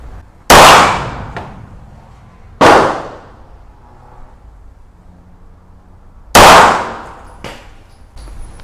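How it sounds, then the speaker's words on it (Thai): A pistol test-fired after being repainted, with a fault where the slide stays half-cocked: three sharp, loud gunshots ring out, each with a short metallic ringing tail, the first two about two seconds apart and the third after a longer pause. "เดี๋ยวยิงอีกนัดหนึ่งนะ"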